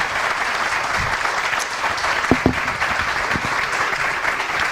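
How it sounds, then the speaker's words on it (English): Sustained applause from an evening audience at a county commissioner candidates' forum in Belterra, dense steady clapping with a few sharper claps standing out near the middle. "Let's give each candidate applause now."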